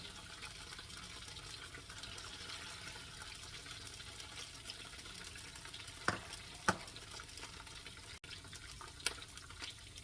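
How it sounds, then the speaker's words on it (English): Steady broadband sizzle of vegetables frying in hot oil in a wok, with a few sharp clinks of a utensil against the pan. "we're just going to use the other oil that I leave in the wok to start frying my vegetables"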